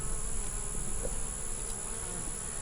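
Honeybees buzz steadily around an open hive during a hive inspection, a dense, continuous drone held close with no talk over it.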